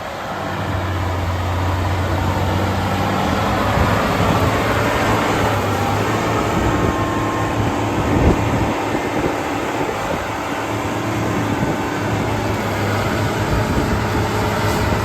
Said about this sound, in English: the tractor will power through this extremely tight soil